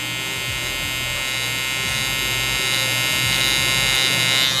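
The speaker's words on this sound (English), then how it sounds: "I'm gonna tilt and position my trimmer like this and start kind of chipping at the hair" An electric hair trimmer buzzes steadily and close while cutting hair for a low taper brush back haircut, a continuous motor whine with no talking.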